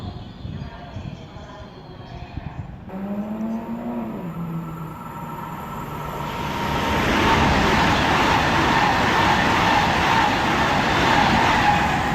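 Great Western Railway unit 800 313 on a London Paddington to Bristol Temple Meads service passes at Slough, a rising roar of train noise building after a quieter start with a brief tonal horn-like sound.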